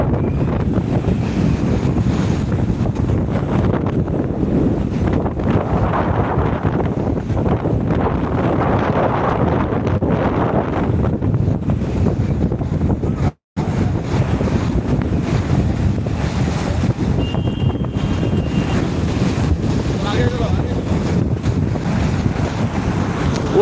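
Rough surf at Digha beach in West Bengal: heavy waves crash and roar without a break, loud and close, mixed with strong wind buffeting the microphone.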